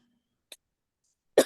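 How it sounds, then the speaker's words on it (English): A single sharp cough from a woman in a quiet room, near and abrupt, preceded by a brief faint throat sound and otherwise silence. "I still have this cough"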